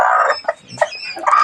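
Native hen with newly hatched chicks gives loud, close clucks and chick peeps in short bursts, with a quiet gap in the middle before the calling picks up again.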